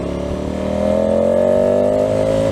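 A KTM 1290 Super Adventure S engine revs up through its airbox intake, a loud, close, rising mechanical howl that builds smoothly, holds near the top and eases slightly at the end, with no talk.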